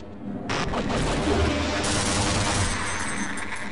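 Automated turrets open fire in Half-Life, a dense, continuous rattle of rapid shots that holds loud and steady from about half a second to the end, with no pause between bursts.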